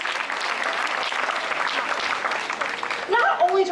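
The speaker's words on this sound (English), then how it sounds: "How about a round of applause for our actress?" An audience at a live animal actors show at a theme park breaks into steady, enthusiastic applause and cheering, with a voice rising over it near the end.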